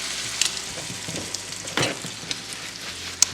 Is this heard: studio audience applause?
no